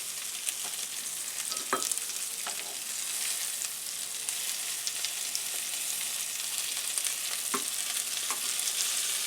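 Jamaican curry chicken meatballs fry in a pan with a steady, even sizzle, punctuated by occasional soft scrapes and taps as they are turned, close up with no voices.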